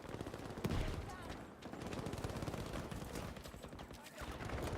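Rapid, continuous automatic fire from the M1922 in Battlefield V chatters loudly and close for the whole stretch, with a heavier burst near the start.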